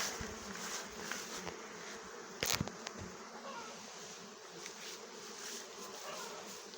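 Honey bees buzzing in flight around a hive, a steady dense hum with a brief louder bee passing close by partway through, no talk.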